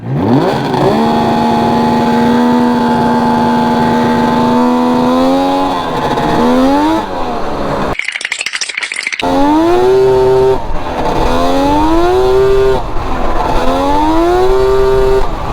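A lawn tractor with a swapped-in triple two-stroke engine revs hard and loud, its pitch climbing and dipping in surges, broken briefly by a sharp hissing burst midway.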